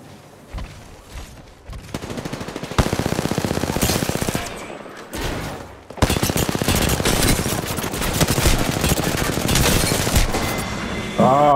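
Rapid automatic gunfire in a battle royale video game, bursts of close, loud shots in long rattling strings with short pauses between them.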